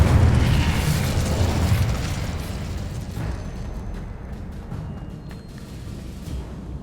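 An Incendio fire spell in the Hogwarts Legacy video game erupts with a loud booming burst that rumbles and slowly fades, followed by softer crackling aftermath.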